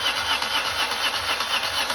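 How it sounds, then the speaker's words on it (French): The starter motor of a BMW R80 R motorcycle cranks the engine steadily with a rhythmic whirring pulse, close and loud, never catching during the short stretch. "est-ce que le moteur va au moins avoir le démarreur?"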